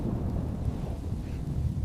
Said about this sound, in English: As the storm slowly passes by